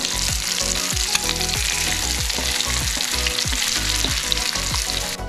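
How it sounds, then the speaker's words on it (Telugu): Godavari masala fish frying in oil in a pan, a loud continuous sizzle with spoon or spatula scrapes ticking through it, close and steady throughout. "ఇప్పుడు మన చేపల ఫ్రై అయిపోయిందండి"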